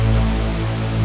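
A Kontakt 5 instrument patch from the Del Norte library plays one loud, sustained, harmonically rich tone, pressed flat by a compressor and limiter so its level stays almost constant throughout, with no talking.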